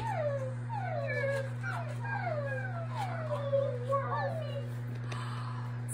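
A voice imitates a sad dog, giving a run of falling, whimpering howls one after another over a steady low electrical hum.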